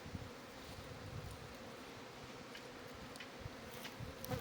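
Honeybees buzz steadily in a dense, continuous drone around an apiary hive as they attack, faint but constant with occasional sharper passes nearby.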